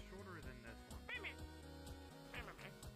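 A recorded dog bark played back through an Alexa smart speaker: several short, tinny barks and yips with a hollow, speaker-like tone, close and fairly loud.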